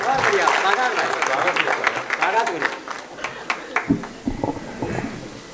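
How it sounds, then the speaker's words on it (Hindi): An audience at a Hindi kavi sammelan poetry gathering claps for a poet, the applause running under a speaking voice at first and then thinning into scattered claps. "जोरदार ताली भी आमंत्रित करिए गुनीराम बादल जी।"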